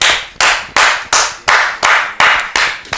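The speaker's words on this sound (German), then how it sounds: "Applaus an die." On a TV show set, hands clap in a steady rhythm: about eight sharp, loud, close claps evenly spaced, each ringing out briefly before the next.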